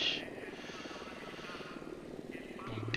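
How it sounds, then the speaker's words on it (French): A patrolling helicopter in the video game Ghost Recon Wildlands drones steadily at mid distance, a continuous rotor hum across the whole stretch with a voice talking over it. "Donc il y a un hélico qui fait une ronde aussi."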